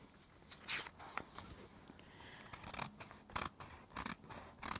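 Scissors snip through a paper furniture transfer printed with a botanical design, a quiet series of uneven crisp cuts, near and close-up, with short pauses between strokes.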